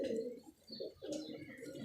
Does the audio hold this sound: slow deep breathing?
no